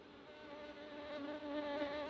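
Honeybees buzzing during a transfer of frames into a nuc box in Yaguarón, Paraguay, a steady close drone of wings that swells slightly louder toward the end, with no talk.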